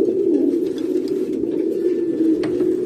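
Breeding pigeons in a loft in Sagua cooing in a continuous low, droning murmur, several birds close together, with a few faint clicks and flutters over the top and no talk.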